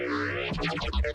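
A psytrance bass patch resampled in the Hammer synthesizer, heard alone: a dense, heavily processed synthetic tone with a deep low-end body and shifting, buzzy upper harmonics that pulse in quick repeated swells.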